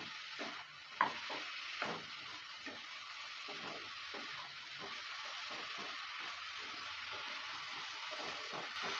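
Spices cooking with potato, peas, paneer and tomato are stirred in a pan, giving a quiet, continuous sizzle broken by repeated scraping strokes of a spoon, with a brief clink early on.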